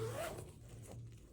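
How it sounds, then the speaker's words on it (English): A zipper on a small fabric pouch holding embroidery threads is pulled closed in one quick, close rasping stroke, alone and fairly soft. "zipped up my threads in my zipper"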